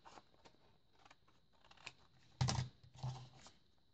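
Paper being cut for an altered paper bag: scattered light snips and rustles build to one louder crisp cut and a couple of follow-up snips, close and without speech.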